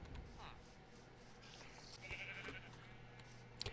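Sheep bleat faintly in a blocky survival video game, a few short calls mixed with soft background game sounds and ambient noise, with no talk.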